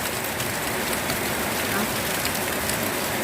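Steady rain falls continuously, a dense hiss of drops on a surface, fairly even throughout with no clear talking.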